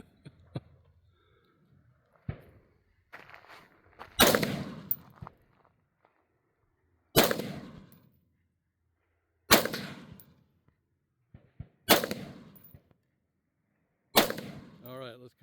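Single gunshots at an outdoor shooting range, six sharp loud reports spaced a few seconds apart, each ringing out with a short decay, with faint clicks and handling noises between them.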